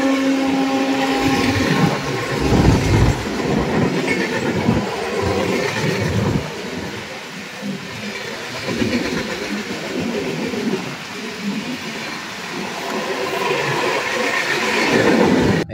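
The East Coast Express thunders past up close, a loud, continuous rumble and clatter of wheels and wagons that holds steady for about sixteen seconds with no voices over it.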